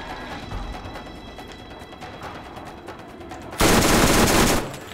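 Gunfire in the video game Borderlands 2, with a steady run of rapid shots followed by a louder, denser burst of close automatic fire that cuts off abruptly.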